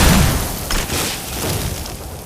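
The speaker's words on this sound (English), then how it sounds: "And then the explosion." A flame atronach in Skyrim bursts in a deep, booming explosion that rumbles and fades over about two seconds, loud and close, with no one speaking.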